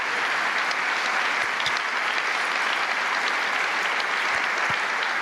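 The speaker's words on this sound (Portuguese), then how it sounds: "Vamos aplaudir quem está na arena, meu irmão?" A church audience claps loudly and steadily throughout, a dense, sustained wall of applause with no talking over it.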